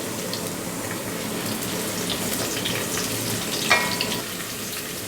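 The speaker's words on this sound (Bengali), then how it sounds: "পেঁয়াজ এবং শুকনো মরিচটাকে একটু আগে ভেজে নিলাম আমি।" Chopped onions and dried red chilies fry in oil for a chalta dal, giving a steady, fairly loud sizzle with a soft stirring scrape and a brief brighter crackle partway through.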